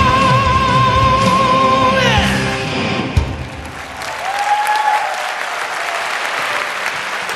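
Audience applause fills the hall after a singer performs his song at a football event, loud sustained clapping with scattered yells and cheers, over a fading musical tail before the clapping swells again.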